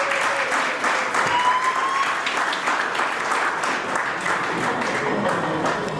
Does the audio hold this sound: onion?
no